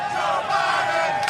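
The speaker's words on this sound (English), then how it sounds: "as you can hear the chants from the crowd" A crowd chants at a race, a loud, steady roar of many voices sustained without a break.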